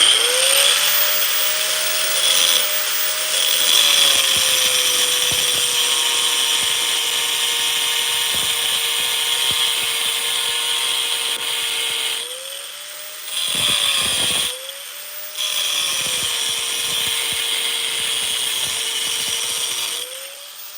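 A power grinder runs steadily against a forged steel steak flipper, throwing sparks, its high whine sustained for about twenty seconds with two brief dips where the tool pauses or lifts off.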